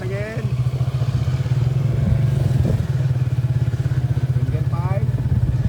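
A big bike motorcycle with a single exhaust pipe idles and rumbles in a steady, pulsing beat close by, with faint voices and a couple of short rising revs.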